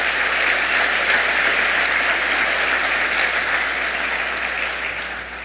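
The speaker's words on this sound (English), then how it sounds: "Please give everyone a round of applause for this morning's effort." Steady, dense applause from a convention audience at a bowling association annual meeting, sustained and loud throughout before gradually tapering slightly at the end, with no talking over it.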